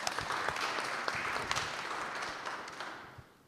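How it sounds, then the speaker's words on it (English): An audience at a talk on kidney disease applauds for a moderator, a steady patter of many hands clapping that fades out gradually toward the end. "Let's give him a round of applause"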